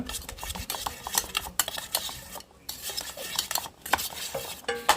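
A spoon stirs tomatoes, green chillies and onions in a metal pan, giving repeated scraping clinks and clatter with a faint sizzle beneath, uneven and close.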